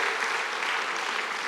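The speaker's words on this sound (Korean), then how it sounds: "박수 다시 한번 쳐줘" A church congregation claps steadily throughout at a revival meeting marking a church's 120th anniversary. The dense, even applause fills the room with no voices over it.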